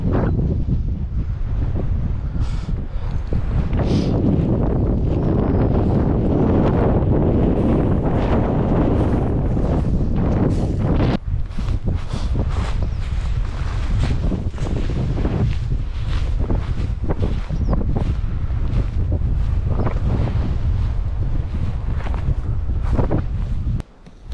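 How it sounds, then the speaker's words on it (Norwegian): Strong wind buffets the microphone nonstop on a mountain plateau in Norway, a heavy, rumbling roar with gusty fluctuations and no voices. "Det er windy her, da. Blåser bra, altså."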